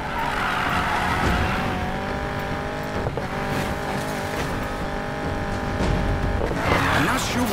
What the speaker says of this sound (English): I'm not sure what Rav did to the Mustang, but it feels tight and heavy